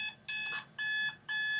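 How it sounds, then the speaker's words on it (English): An alarm clock rings in three loud, evenly spaced electronic bursts, each about a third of a second long with short gaps between, sounding close and alone with no talking. "There goes my alarm clock."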